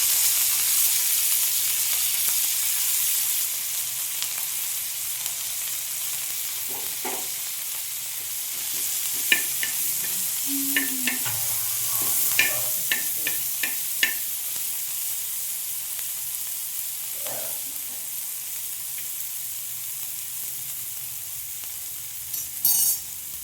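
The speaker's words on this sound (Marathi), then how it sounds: "आपण थोडंसं तेल टाकूया त्याच्यानंतर हिरव्या मिरच्या टाकूया आणि कुठले लाल लसूण टाकूया" Green chilies and garlic fry in a little hot oil, giving a steady close sizzle with scattered crackles and spatter pops, a few clinks from stirring in the middle, no voices.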